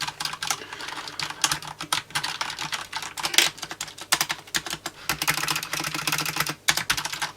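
Fast, steady typing on a Ducky Channel Shine 5 mechanical keyboard with black switches, a dense run of crisp key clacks close by with brief pauses.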